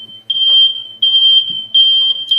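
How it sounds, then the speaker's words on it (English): A household smoke and fire alarm sounds loud and close, repeating a piercing electronic tone in bursts with brief gaps between them. "My fire alarms are going off."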